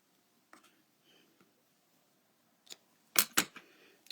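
A craft bow has a piece snipped off with scissors, heard as two quick, crisp cuts close by after some faint handling rustles in an otherwise quiet room.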